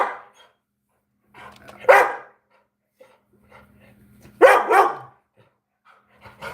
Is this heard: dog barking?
yes